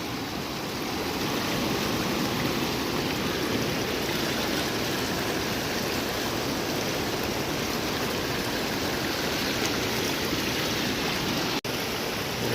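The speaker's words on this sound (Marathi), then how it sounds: "बघू शकता किती मस्त पाणी वाहत आहे" A Konkan river swollen by heavy monsoon rain rushes past in a steady, loud, unbroken roar of flowing water, with no voices.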